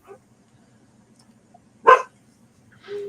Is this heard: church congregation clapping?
no